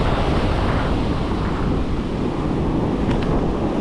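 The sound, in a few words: strong wind during hurricane storm at the coast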